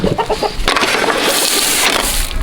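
Chickens cluck and squawk up close while being fed, a busy burst of overlapping calls that swells into a louder flurry.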